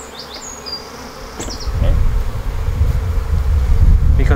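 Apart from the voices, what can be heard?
honeybees buzzing around a hive during queen rearing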